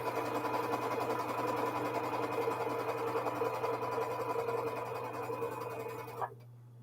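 A sewing machine runs at speed stitching a zigzag quilt block, a steady close mechanical hum and rapid needle chatter that continues for several seconds before stopping abruptly.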